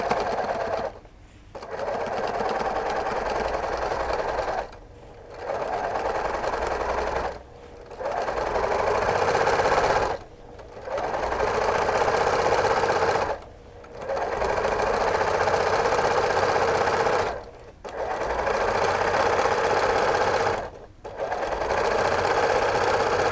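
A sewing machine runs fast, stitching a pillowcase seam in long steady bursts, loud and close, stopping briefly about seven times between runs.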